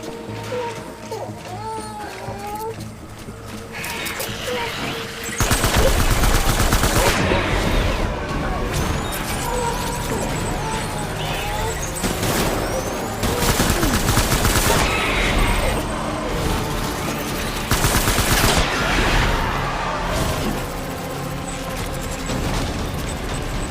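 Heavy gunfire in the video game Death Stranding, loud sustained bursts and rattling volleys with booms over an already noisy scene, continuing almost without a break, with voices heard now and then.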